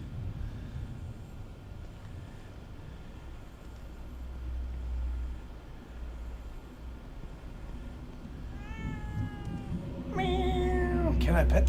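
A cat meows several times in The Evil Within 2, loud harmonic mews near the end over a steady game ambience and low rumble.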